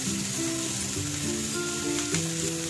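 Chopped onions sizzle and fry in hot oil with ginger and garlic for an Indian dal, a steady close crackling hiss with no talking.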